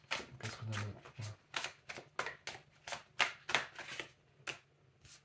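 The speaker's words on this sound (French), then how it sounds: "Les cartes se mélangent un peu." Tarot cards shuffled by hand during a reading, giving a quick run of crisp riffling bursts in a steady rhythm, close and moderately loud, with a brief low voice early on.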